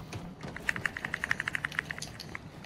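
Rapid, quiet clicking of video game controller buttons, a quick run of about a dozen light taps close by, with no talk.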